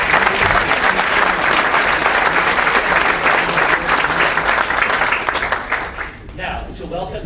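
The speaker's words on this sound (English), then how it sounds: "Everyone, please join me in a round of applause for today's sponsors." Dense, steady applause from an audience at a Winnipeg Chamber of Commerce luncheon, loud and sustained for about six seconds before thinning out near the end.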